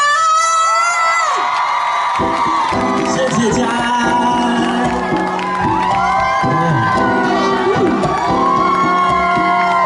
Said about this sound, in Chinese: 用最大的尖叫声欢迎